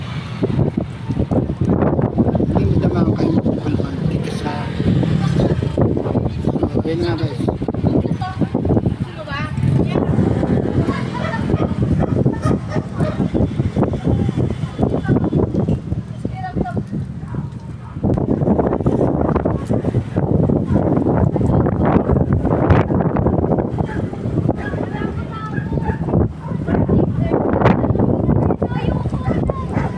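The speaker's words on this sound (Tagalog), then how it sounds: "malakas ang hangin at ang pakaspas ng hangin" Strong wind at Taliptip Beach buffets the microphone with constant low roaring gusts, while people talk and children's voices come through underneath throughout.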